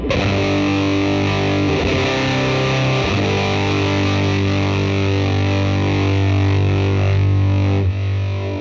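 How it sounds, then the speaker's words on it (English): Heavily fuzzed electric guitar chords through a Fender Mustang GT amp, thick and saturated, sustained loudly with a couple of chord changes. "This one has a big, bold, fuzzy sound."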